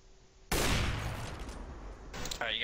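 Loud burst of gunfire from the video game Counter-Strike begins abruptly and continues as a dense volley for about two seconds, with a second sharp shot near the end.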